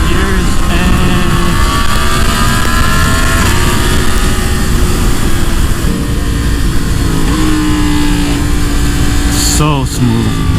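Yamaha MT-10 motorcycle with a flashed ECU pulling hard through the gears, a loud continuous engine roar rising in pitch with gear changes, close up, with wind and a rider's voice over it.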